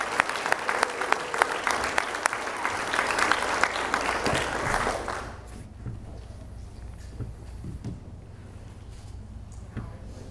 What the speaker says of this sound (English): So y'all give her a big round of applause for what she's going to be doing for our country.